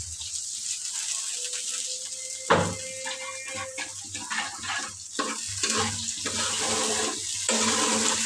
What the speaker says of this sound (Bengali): এক কাপ গরম পানি দেবো